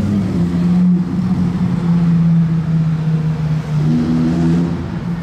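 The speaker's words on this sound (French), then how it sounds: "j'ai entendu quelque chose arriver et effectivement Batman est sorti en STO aujourd'hui" A Lamborghini Huracán STO supercar arrives with a loud, steady engine drone that rises in pitch near the end as it revs.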